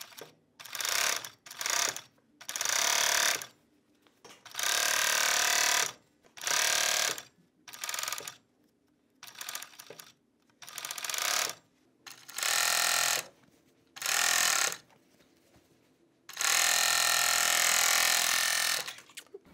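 Bursts of a 4-thread serger stitching ribbing onto a sweatshirt, running in short and longer spurts with brief pauses between, close and fairly loud.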